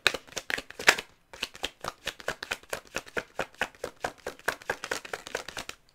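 Tarot cards shuffled by hand in a steady run of crisp riffling bursts, each a quick papery flutter, close and fairly loud, with a brief pause near the start and no voices.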